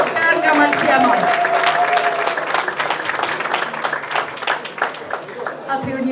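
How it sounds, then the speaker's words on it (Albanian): Audience applause at an Albanian community dinner in Varese, Italy, a dense sustained wash of clapping from a large crowd, steady and loud across the whole stretch with voices faintly mixed in. "një duartrokitje shumë të fortë"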